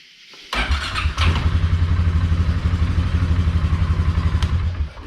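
A 2015 Polaris Sportsman 570 ATV engine catches after cranking and settles into a steady, loud, close idle with a rapid, even putter that lasts several seconds.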